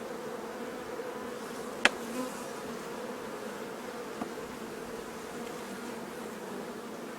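Calm honeybees hum at an open hive during a beekeeper's inspection of brood frames, a steady, even drone that fills the whole clip. One sharp tap rises above the buzz.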